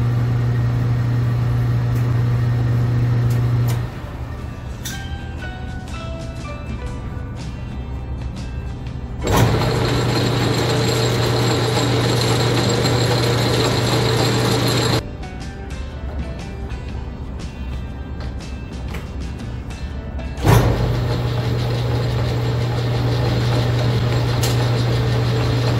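A Hercus 260 lathe runs with a steady motor hum and faint mechanical whir, the note changing at a few points as the machine speeds up or switches over, with no talk.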